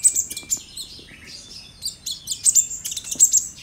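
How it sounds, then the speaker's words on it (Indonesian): A kolibri ninja bird, still moulting with pin feathers on its head, chirps in quick, high, close tweets that come in repeated bursts, with no talking. "ini contoh dari kolibri ninja yang saya kasih nektar yang saya buat tadi"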